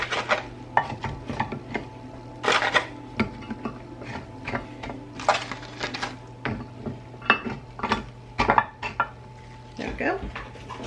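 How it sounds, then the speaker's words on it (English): Hash browns are pressed into the bottom of a pan. A dense run of clattering metal taps, scrapes and knocks plays over a low steady hum. "Just going to line the bottom of my pan here with these hash browns."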